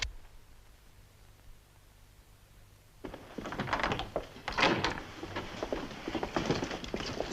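A door is broken in during a 1954 Western: after about three seconds of near silence, heavy wooden thuds and cracking blows land in an irregular, loud run that continues to the end.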